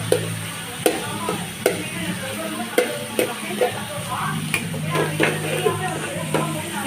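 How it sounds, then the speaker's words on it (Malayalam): Tomatoes for chicken gravy fry and sizzle steadily in a pan while a spoon stirs, with sharp regular clinks of the utensil against the pan about once a second; a voice talks faintly underneath. "തക്കാളി ഇട്ട് കൊടുക്കുക. 2 മിനിറ്റ് ഇങ്ങനെ വേവട്ടെ. ഇളക്കി കൊടുക്കുക."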